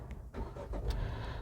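A Tata Punch SUV engine is started with the clutch pressed, giving a brief crank followed by a low rumbling catch as the motor settles into idle, heard close from inside the car.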